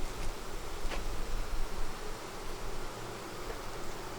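Dense honeybee buzzing from an open hive fills the air, loud and continuous with a shifting hum, close by and without speech.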